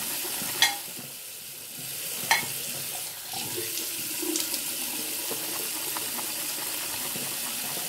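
A shaving brush whips shaving soap into lather with hot water, giving a close, wet, squelching swirl that runs continuously, with a few sharper splashy taps near the start and a steady churning afterward, and no talking.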